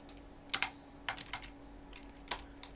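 Typing on a computer keyboard while setting up a MIDI script for a Korg Nano Control Studio: a few scattered key clicks, near and fairly faint, with short pauses between pairs of strokes.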